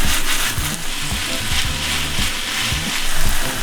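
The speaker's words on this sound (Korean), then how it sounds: "간장 한 큰술 지글지글 데워 불향을 입혀주세요" Pork front leg, onion and garlic sizzle with a spoonful of soy sauce in a hot wok, a loud steady crackling fry with low rumbling stir-like thumps underneath, no voices.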